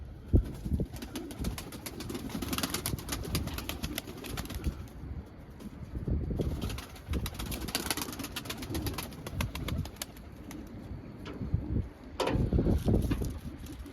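Pigeons and their young coo nearby with bursts of wing flapping and fluttering, a busy, continuous flock sound with no talking.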